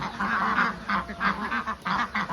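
A flock of Khaki Campbell laying ducks on a Thai egg farm, gathered outdoors, quacking in a steady, overlapping chorus of repeated nasal calls, fairly close and continuous throughout.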